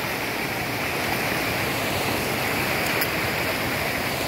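Floodwater of the Kapili river pours along beside the road between Kampur and Kathiatoli, a constant dense rushing roar with no breaks and no voices.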